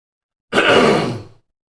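A single harsh, breathy throat-clearing burst lasting under a second, close and fairly loud, with silence before and after.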